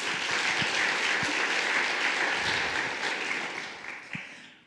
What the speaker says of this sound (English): we should give a round of applause for her